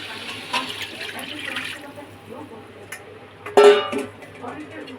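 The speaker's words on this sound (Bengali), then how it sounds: "এবারে জলটাকে ঢেলে দিলাম।" Water is poured into a cooking pot of simmering meat in a home kitchen, a close, continuous splashing gush with a louder surge near the end, set against background kitchen noise.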